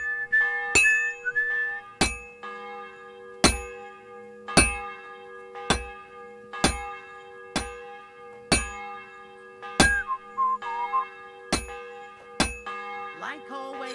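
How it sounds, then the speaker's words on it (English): A bell tolls in the medieval game Kingdom Come: Deliverance 2, about a dozen clear, ringing strikes at a steady pace with long sustained overtones, over a soft ambient tone and without any speech. "The bell's ringing for hands the 5th time."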